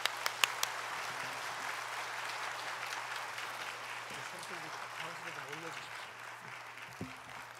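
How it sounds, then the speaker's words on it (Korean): A church congregation applauds a guest pastor coming forward to preach. The clapping is steady and moderately loud, echoing in the sanctuary, with a low hum underneath. "나오실 때 큰 박수로 환영해 주시기 바랍니다."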